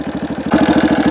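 A Honda CRF230F dirt bike engine idles with a fast, even single-cylinder putter close by, rising slightly louder and rougher midway through, with no talk over it.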